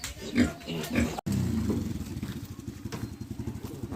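A pig being sold at a farm in the Philippines grunts and squeals in close, rough bursts, with a brief clatter, over a steady engine-like rumble.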